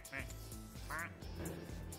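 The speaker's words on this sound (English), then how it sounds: "I haven't been doing their duck sounds." Game duck quacks sound twice in quick succession, short nasal calls over a constant background hum, with a voice talking under them.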